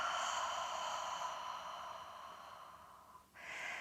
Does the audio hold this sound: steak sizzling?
no